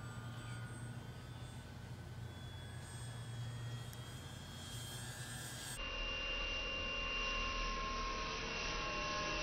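Eflite M7 Maule 1500 mm electric RC model airplane flying on a calm day, a steady thin motor whine with a constant airy hum running throughout, fairly faint and distant, with no talking.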